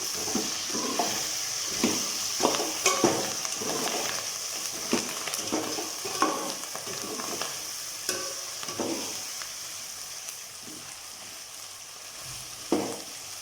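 Raw plantain pieces frying in oil for a spicy tamarind curry, with a steady sizzle and repeated scraping stirs of a spoon through the pan throughout.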